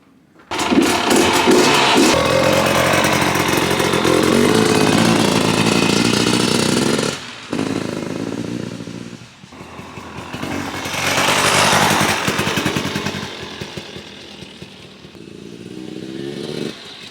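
A 2022 KTM XCW 300 two-stroke dirt bike engine revs loudly and steadily, then drops out briefly and comes back with varying throttle, rising again to a strong burst before settling lower.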